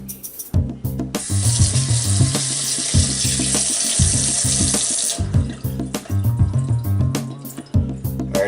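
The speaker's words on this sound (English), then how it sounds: "We'll rinse them out in the sink though." Morel mushrooms get rinsed in a kitchen sink under a running tap, a close, steady rush of water with clattering and dripping as the stream is turned on and handled, then intermittent splashes.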